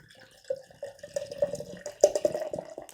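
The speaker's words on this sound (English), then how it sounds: "We'll see if I'm able to pour this." Drunkin' Punkin' beer from New York Beer Project is poured from a crowler into a glass, giving close, gurgling glugs and splashes in uneven spurts that grow louder toward the end.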